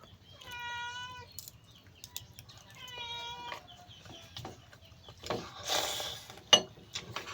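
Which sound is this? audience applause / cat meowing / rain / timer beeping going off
cat meowing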